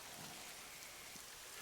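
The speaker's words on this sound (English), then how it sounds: "The rain had softened to a gentle patter" Gentle rain pattering steadily, a soft even hiss of falling drops, faint and continuous throughout the short stretch with no voices.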